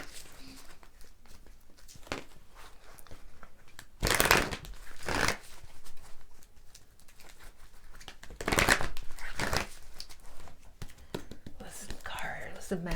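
Tarot cards are shuffled and drawn in soft bursts of riffling and crinkly paper rustle, close and fairly quiet, with whispering and low speech between the card sounds.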